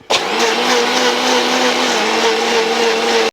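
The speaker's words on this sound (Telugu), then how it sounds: "మిక్సీ వేసుకోండి" A mixer grinder blending eggs with oil and water, a loud, steady motor whir starting abruptly and holding at an even pitch for about three seconds before cutting off, close and alone.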